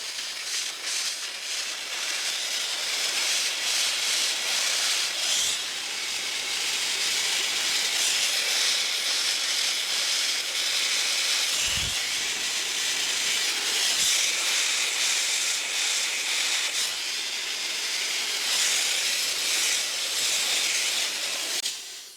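A handheld hair dryer blows a steady, loud airy hiss while a man's hair is styled with a brush, the airflow running nearly unbroken throughout with only brief dips and small bumps.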